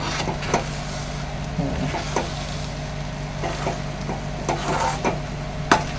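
Puran, a thick sweet lentil filling, stirred and sautéed in a pan for puran poli, with soft scraping taps of the spoon over a steady low kitchen hum and faint sizzle.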